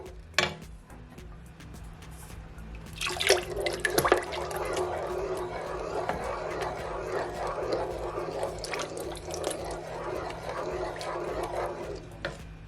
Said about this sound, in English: So now that I add my evaporated milk, I'm gonna add some salt